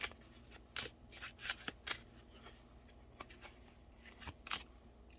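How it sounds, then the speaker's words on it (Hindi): Tarot cards being shuffled and drawn by hand, with a rapid series of crisp riffling and snapping bursts close up, no talking. "एक दो कार्ड्स और निकालते हैं।"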